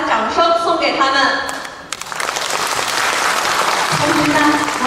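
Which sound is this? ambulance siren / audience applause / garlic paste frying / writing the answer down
audience applause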